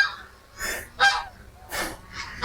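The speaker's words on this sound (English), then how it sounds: "So yeah, hundreds and hundreds of ducks being bred." Many farmed ducks call out in bursts of loud honking quacks, about four calls spread across a couple of seconds, heard from nearby over a low rumble at a breeding farm.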